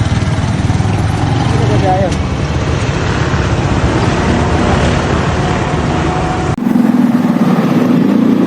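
Road traffic surrounds a rider on a delivery vehicle, a steady loud engine and roadway rumble with a brief horn, while people talk over it.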